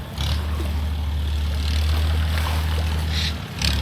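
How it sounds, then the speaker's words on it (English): Motorboat engines run in a bay, a steady low droning hum that carries throughout with no voices, fairly close and even in loudness. "It's just hard to believe with all those motorboats running through here."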